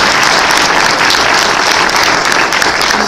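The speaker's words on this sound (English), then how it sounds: "perhaps we could show through a round of applause and appreciation" Loud, dense applause from an evening audience at a citizens preparedness program, a sustained wash of many hands clapping close by with no talk over it.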